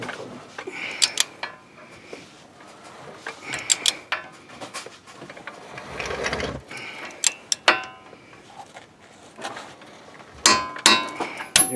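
A torque wrench ratchets while tightening a lower control arm bolt on a 2012 Ford Fusion: sharp metallic clicks come in irregular bursts between quieter stretches of shop noise, close and fairly faint.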